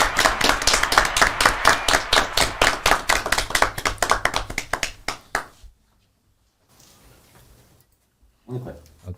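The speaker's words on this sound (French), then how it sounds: "Est-ce qu'on peut l'applaudir, s'il vous plaît, le temps qu'il arrive?" An audience at a French startup pitch event claps in a burst of fast, loud applause that thins out and stops midway, followed by near silence and a short bit of talk near the end.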